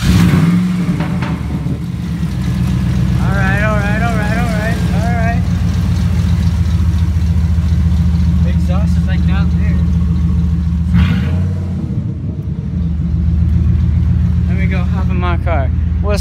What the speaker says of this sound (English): you got that straight pipe Dodge diesel. Or no, it's gas.